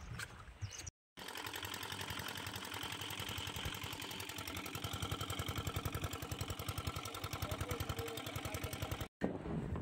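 Boat motor on a river trip in the Sundarbans kicks into life after a short silence, then runs steadily with a loud, rapid pulsing chug for several seconds before cutting off briefly near the end.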